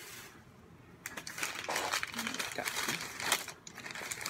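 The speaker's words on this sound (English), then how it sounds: "Sorry about all the paper noises." Paper being crinkled and handled while unwrapping thrift store purchases, a close, continuous rustling and crackling with louder bursts, under occasional quiet speech.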